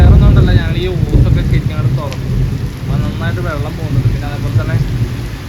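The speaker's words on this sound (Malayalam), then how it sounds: "മിന്നലും ഇടിവെട്ടും അതേപോലെ തന്നെ മഴയും" Steady heavy rain with low rumbling thunder underneath during a lightning storm, while people talk over it throughout.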